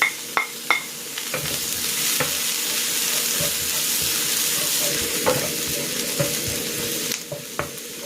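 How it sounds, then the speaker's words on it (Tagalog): Garlic and onion sautéing in a hot pan, a steady loud sizzle broken by sharp clinks and scrapes of a utensil stirring against the metal. "Nagigisa na ako dito ng bawang. At ng sibuyas."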